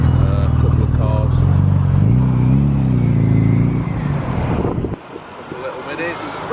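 Classic Minis out on the London to Brighton Mini Run, driving off the A23 into Brighton, with a steady close engine and road rumble mixed with wind buffeting that eases and drops away about five seconds in.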